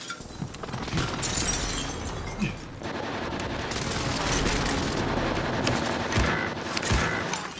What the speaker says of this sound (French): On me tire dessus, là!